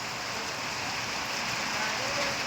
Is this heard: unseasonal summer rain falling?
yes